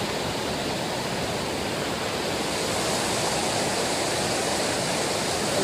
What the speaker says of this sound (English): We're down on top of the waterfall.